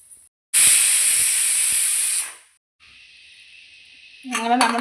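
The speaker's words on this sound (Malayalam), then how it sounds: "ഇനി കുക്കർ മൂടി വെച്ച് 2 വിസിലടുപ്പിച്ച് ഓഫാക്കാം." A pressure cooker holding fenugreek rice with grated coconut releases steam in a loud, sharp hiss lasting about two seconds, then fades to a softer steady whistle-like tone with a brief rustle at the end.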